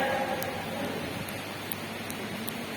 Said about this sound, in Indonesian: harinya panas sampai ke hujan